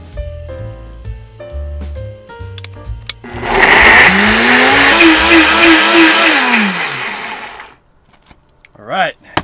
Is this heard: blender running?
yes